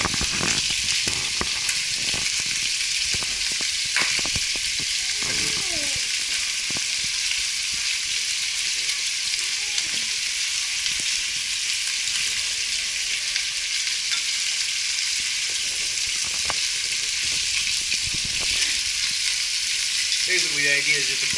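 Short ribs browning in a pan of hot grease, a steady dense sizzle that carries on unbroken for the whole stretch, with faint scrapes and bubbling pops rising now and then, close and fairly loud.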